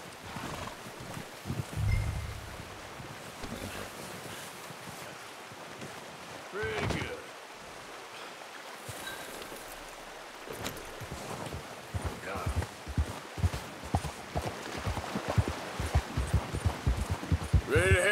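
Horse hooves clip-clop at a walk in Red Dead Redemption 2, a steady rhythm that builds in the second half, with occasional whinnies and brief talk woven through.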